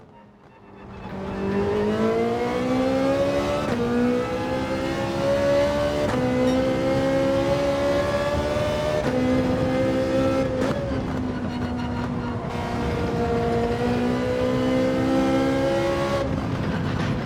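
A Ferrari 458 races in Gran Turismo 7, its engine note holding a loud, steady high-revving whine with rising pitch sweeps through gear changes, continuous and close for the whole run.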